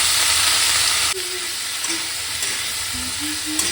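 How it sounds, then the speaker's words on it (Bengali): Boiled food fries lightly in oil in a pan with a loud, continuous close sizzle and hiss. Faint tonal beeps sound in the background. "এই সেদ্ধ করে রাখা এটারটা হালকা করে ভেজে নেব"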